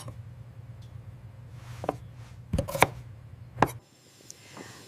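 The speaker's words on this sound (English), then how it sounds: "I am cutting the carrot." A knife cuts a carrot on a board, giving a few sharp, close chops after a low background hum.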